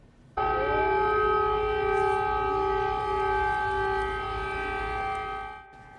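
A loud air raid warning siren in Ukraine holds a steady, harmonic tone for several seconds, sliding in pitch briefly near the start, then fades and cuts off.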